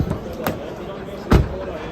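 A Ford Focus Connect 2022 car door closes with a solid thud, preceded by a lighter click of the latch opening, heard close and outdoors.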